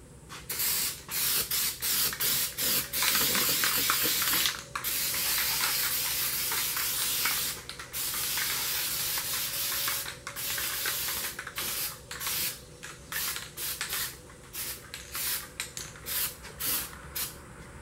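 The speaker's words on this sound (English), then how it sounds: "I'm putting very little paint on it. I'm not trying to coat the fender entirely." Guide coat spray paint hissing from an aerosol can onto a truck fender in short bursts and longer passes, close and steady with brief gaps between sprays.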